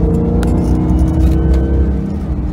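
A Nissan GT-R engine accelerates hard on a race track, a loud, close, continuous rumbling drone that stays strong throughout, with no voices.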